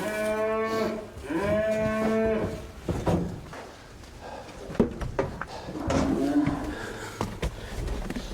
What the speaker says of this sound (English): There's a lot of roaring around going on in there, so say the cattle don't know quite what's going on.